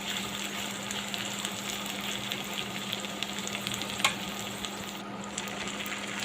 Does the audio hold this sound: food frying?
yes